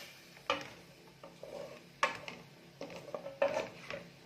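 Onion frying in a pan gives a quiet sizzle, broken by a few sharp utensil scrapes and clinks at irregular intervals, with no voices.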